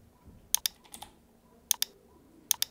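Light keystrokes on a computer keyboard come in three small clusters of quick clicks, close and fairly quiet, with no talking.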